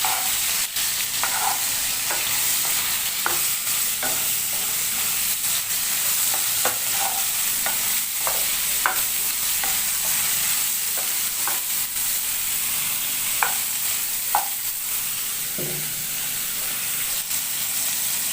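Soybean chunks and mixed vegetables frying in a pan, a long steady sizzle broken by regular clinks and scrapes of a stirring spoon, close and even throughout, with no speech.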